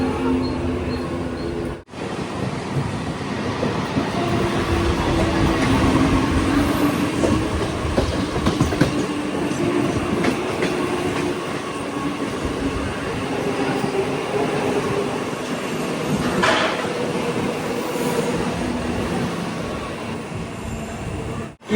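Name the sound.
Mumbai local train riding from Mumbai Central to Churchgate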